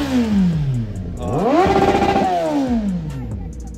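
A motorcycle engine at a large bike meet, revving up and holding a high whine before easing back down, close and loud, with no speech over it.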